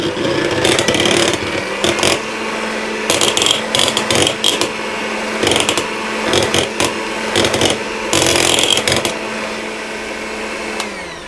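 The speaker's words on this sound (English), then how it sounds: "I'm going to put that into the eggs and give it another quick whisk" Eggs mixed with almond and lemon extract being whisked loudly and closely. The whirring comes in repeated bursts with short pauses between them, and no one talks.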